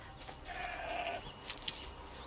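A goat bleats in Horizon Zero Dawn, a drawn-out wavering cry close by, followed by two short, sharper clicks or calls over a quiet game ambience.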